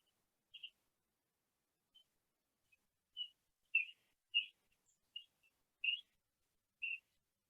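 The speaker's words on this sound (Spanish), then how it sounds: "Por la mañana cuando empieza a cantar los pájaros" Birds sing in the morning, heard from inside a dome: about eight short, high chirps and whistles spaced irregularly over otherwise near-silent air, faint and somewhat distant.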